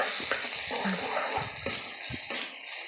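Raw banana sautéed in a pan, with a few scraping stirs and a low sizzle heard up close at moderate volume, nobody speaking.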